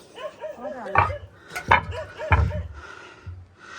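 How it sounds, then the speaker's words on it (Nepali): A dog barks three times in sharp, spaced bursts, with some whimpering and yelping between, fairly close. "कति भुकेको यसले मलाई"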